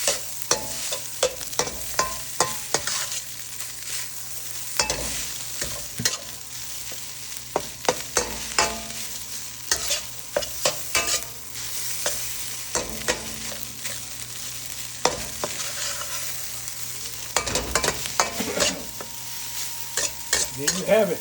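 Bacon stir-frying in a pan for ribeye beef fried rice, a steady sizzle broken by repeated sharp scrapes and clatters of a utensil stirring, loud and close with no talk.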